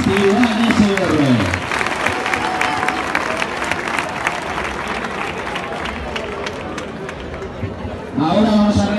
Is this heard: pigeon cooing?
no